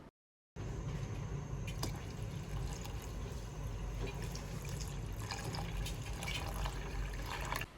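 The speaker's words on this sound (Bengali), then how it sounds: "সিদ্ধ করার সময় এগুলো যেন পানিতে ডুবে থাকে, তাই আমি আরও পানি দিয়ে দিচ্ছি।" Water is poured into a cooking pot to cover rice dumplings (zongzi) for boiling, a steady, continuous splashing and trickling stream that runs close and unbroken for several seconds after a brief silent start.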